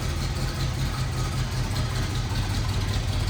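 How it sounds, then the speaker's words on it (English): A cold 1956 Corvette 265ci V8 idles with a steady, even exhaust purr, close and continuous with strong low rumble and no revving or talk. "Now listen to the exhaust here. Again, the motor is cold, so it's doing its thing, but it just purrs."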